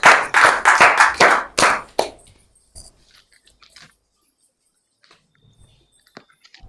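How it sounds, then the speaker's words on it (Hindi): Applause from a crowd at a Hindi poetry recital bursts out in a series of loud claps for about two seconds, then fades into a few scattered, faint sounds and near silence. "जोरदार तालियों के साथ इनका आप बुलाएं, पुनीता भारद्वाज।"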